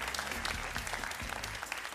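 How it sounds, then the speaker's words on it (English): Audience applause at a Paris 2024 Paralympic shooting para sport event, dense steady clapping from a crowd lasting about two seconds, fairly faint and distant. "Let's have a round of applause for Jonas Jakobsson"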